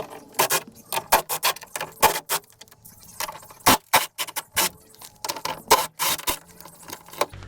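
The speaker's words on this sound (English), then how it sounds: "We will remove the 6 bolts that's holding the window regulator" Bolts holding a car door's window regulator are removed by hand. The work comes through as a close series of irregular metallic clicks, rattles and jangles with short pauses between them.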